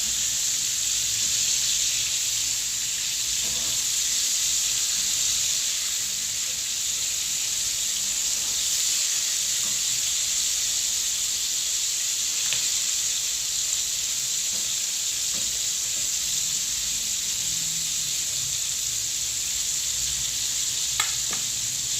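Battered chicken pieces fry in hot oil over a low flame, giving a steady, close sizzle with soft crackles and faint stirring throughout.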